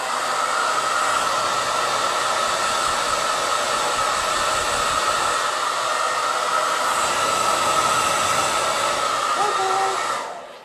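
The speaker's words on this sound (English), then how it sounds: "I gotta blow dry this one" A hair dryer blows continuously at close range as it dries a stencil, a steady whooshing whine that runs for about ten seconds before switching off.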